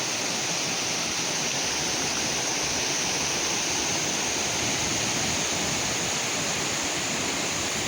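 Waterfall at Anse des Cascades on Réunion roaring steadily and loudly up close, a dense unbroken rush of falling water with no pauses.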